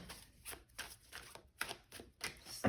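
Tarot cards shuffled by hand: a quiet run of quick, papery riffles and slaps in bursts, close up and soft, with no speech.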